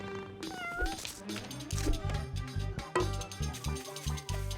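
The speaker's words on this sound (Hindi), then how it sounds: "बहुत शरारती बिल्ली हो।" A mischievous cartoon cat meows several times, with rising and falling cries over a bouncy background music score.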